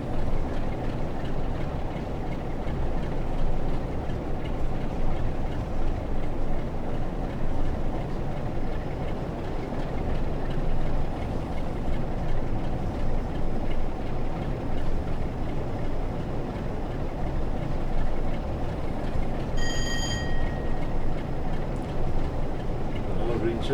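A Class 47 diesel locomotive coasts downhill from Shap Summit toward Carlisle in Train Sim World 6, a continuous loud rumbling rail roar with faint rhythmic clatter, with a brief high tone near the end.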